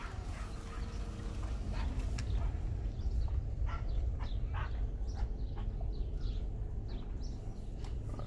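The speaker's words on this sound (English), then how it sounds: "Are those baboons barking, or is there a little dog barking at the baboons?" Barking at a zoo drive-through, either baboons or a small dog, comes as sharp repeated calls over a constant low rumble, heard from some distance.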